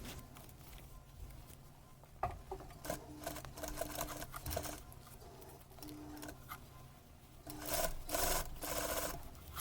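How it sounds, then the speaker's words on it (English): A sewing machine running a top stitch around a pinned zipper on fabric, its steady mechanical whirr coming in stretches with brief pauses and a louder burst near the end. "now we have to sew the top stitch all around"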